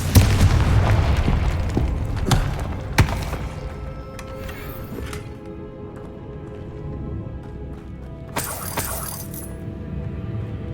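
Confringo fire spell blasts in Hogwarts Legacy, opening with a heavy booming explosion that rumbles and fades, followed by further sharp bursts and a bright crackling flare later on.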